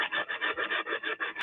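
A 5-inch palm sander works over wood with a steady abrasive rasp that swells and dips in a quick back-and-forth rhythm, close and moderately loud, with no talk.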